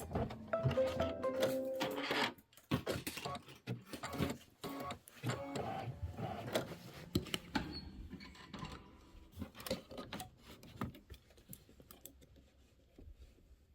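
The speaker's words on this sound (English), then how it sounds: "trim the leather close to the stitch line. So there's going to be a decorative stitch around this. I'm going to use my snips." Small steel snips trim leather close to a decorative stitch line on an embroidered pillow appliqué, giving a busy run of quick, close clicks and snaps that thin out toward the end.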